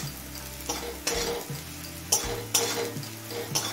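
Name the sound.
onions frying in a pan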